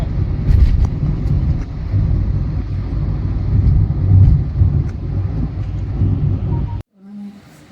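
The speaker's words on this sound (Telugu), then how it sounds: "చూడండి ఇప్పుడు డ్రైవింగ్ అయితే ఇంకా చేస్తూ వెళ్తున్నాడు" Steady low engine and road rumble from a car being driven, loud and continuous with some wind buffeting, cutting out abruptly near the end into a brief quieter interior noise.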